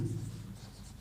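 Pen scratching across paper as someone writes by hand, soft and close, with a faint low hum underneath.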